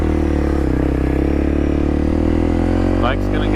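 A dual sport motorcycle rides a dirt road along U.S. 60 toward Florence, Arizona, its engine droning steadily and close throughout, with a brief voice near the end.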